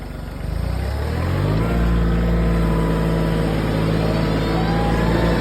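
The engine of a Kioti CK2610 compact tractor, a 35 hp engine detuned to 25 hp, is throttled up from a low idle chug and climbs to a steady, loud, droning hum that holds close and alone.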